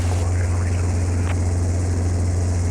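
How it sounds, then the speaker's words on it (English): Inside a training helicopter in flight, a loud, steady low rotor and engine drone throbs continuously, with a brief faint chirp partway through. "trying to fly the helicopter"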